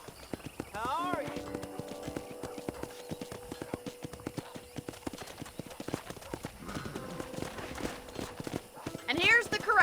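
Steady rhythmic clip-clop of horse hooves on a hard surface at a ranch corral in the video game Red Dead Redemption, with a short whinny and voices speaking over it, moderately quiet.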